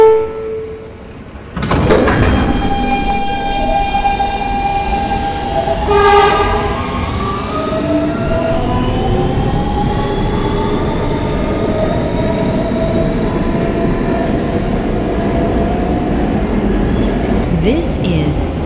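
An R160B Siemens subway train on the Brooklyn-bound W local rolls and brakes near 14th Street–Union Square, with loud door chimes, a rising motor whine and a long steady rumble.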